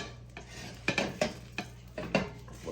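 A plate set down over a frying pan holding a tortilla-wrapped omelet, giving a few close, light clinks and scrapes of ceramic on metal in short irregular bursts.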